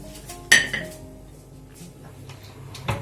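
A metal pizza pan for a Margherita pizza is set into an oven preheated to 250 degrees, giving one sharp metallic clank, then a softer knock and faint shuffling. The clip ends with a second, quieter clatter.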